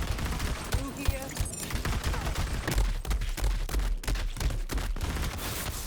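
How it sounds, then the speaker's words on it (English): Rapid-fire assault rifle bursts in a looter-shooter game, dense cracking volleys running almost continuously at close range with deep low thumps, mixed with other game effects throughout. "very rapid fire assault rifles these days"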